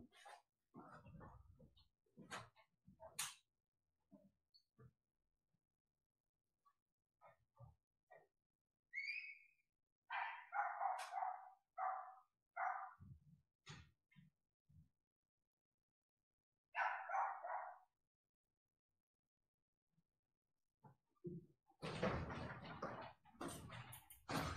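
Dogs bark and yip in the background in several short bursts spread through a quiet stretch, with some higher whistle-like calls and a noisier, denser burst near the end.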